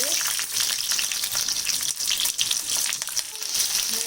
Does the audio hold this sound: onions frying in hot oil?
yes